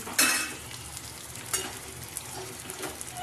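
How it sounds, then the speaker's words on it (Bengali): Soft, steady sizzling of pointed gourd frying in a pan until browned, with occasional scraping stirs and light clinks. "পটলটা একটু ভালো করে না ভেজে নিলে ঝোলটা স্বাদ আসবে না সেটা একটু ভালো করে লাল লাল করে ভেজে নিচ্ছি"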